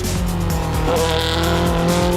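DTM race cars cornering through the Mercedes arena at the Nürburgring in 2012: loud, continuous engine roar with shifting revs and tire squeal as the cars sweep past.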